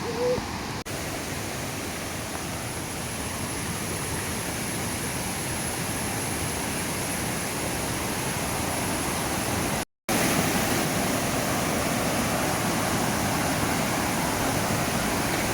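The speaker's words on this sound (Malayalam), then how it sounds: "ഈ വെള്ളച്ചാട്ടമാണ് കേട്ടോ അത് സൂപ്പർ വൈബ് തന്നെയായിരുന്നു" A waterfall at Vazhani Dam roars as a steady, dense rush of water, close and even throughout with a brief dropout near the end and no voices.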